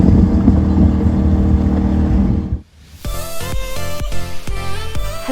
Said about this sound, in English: You little whippersnappers running through here with your fast boats